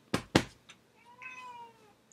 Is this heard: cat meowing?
yes